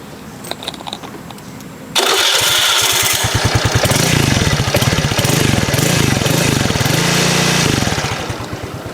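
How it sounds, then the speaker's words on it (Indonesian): A Suzuki motorcycle's electric starter gives a short, rough crank, then the engine catches and runs with a loud, fast, even putter that eases slightly near the end. "untuk suara starternya dia masih kurang halus menurut gua"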